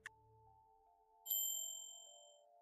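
A single bright chime rings out clearly and decays slowly over a quiet sustained tone, used as a bell sound effect during a Dungeons & Dragons game session.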